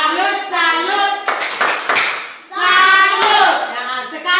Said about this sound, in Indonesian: kita tepuk salut untuk kelompok 1